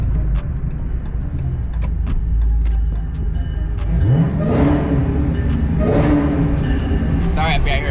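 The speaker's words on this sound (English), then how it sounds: "Sorry if y'all hear a bunch of train noise." A train passes close by, with rumbling wheels, rhythmic clacking and a rising horn blast, loud and continuous, heard near a shop while getting winter tires for a widebody Hellcat.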